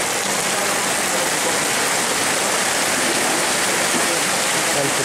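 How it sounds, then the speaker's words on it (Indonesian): Heavy downpour in the town of Ngawi beside the main square, a dense steady broadband hiss of rain that stays loud and unbroken throughout with no clear gaps. "Ngawi sedang hujan deras"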